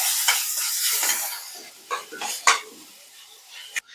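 Chopped onions and tomatoes being sautéed and stirred in a pan, with soft sizzling and scraping strokes followed by a few sharper utensil knocks against the pan, close and alone without talking.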